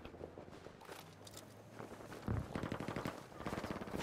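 Gunfire in the video game Battlefield V, with bursts of rapid automatic shots that grow denser and louder in the second half, close and sharp.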